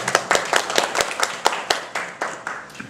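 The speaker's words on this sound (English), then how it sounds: "Let's give these inspiring people a huge round of applause." Audience applause for breast cancer survivors standing at a gathering: a few distinct hand claps repeat in a quick, fairly steady rhythm, moderately close and clear with no talking over them.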